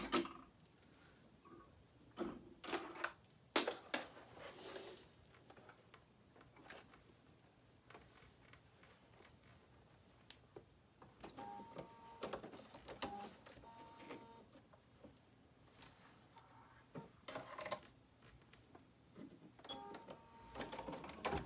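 An embroidery machine stitches out a design in white thread, giving quiet, intermittent bursts of rapid mechanical whirring and clicking separated by brief lulls.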